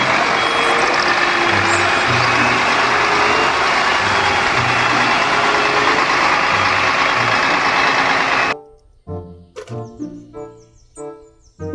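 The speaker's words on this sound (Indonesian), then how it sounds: "Mobil truk molen." A toy concrete mixer truck plays its loud, steady electronic engine sound with repeating beeps for about eight seconds, then cuts off abruptly into quieter, scattered tones.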